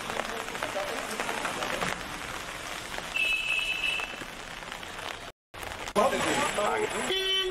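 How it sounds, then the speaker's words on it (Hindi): Rain falls steadily in Chamoli, Uttarakhand, a dense continuous hiss under a voice talking, with a brief dropout and scattered clicks near the end. "चमोली में 2 दिन से रुक रुक कर बारिश हो रही है"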